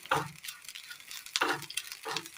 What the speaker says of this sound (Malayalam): അങ്ങനെ നമ്മൾ ഇടവിട്ടൊന്ന് ഇളക്കി കൊടുത്ത് നന്നായി ഒന്ന് ഉലർന്ന് കിട്ടിയിട്ടുണ്ട്